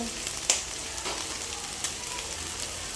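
Fish with its head left on, tofu and powdered black pepper sautéing in a pan, a steady close sizzle and crackle with a few sharp spatter pops and stirring scrapes throughout.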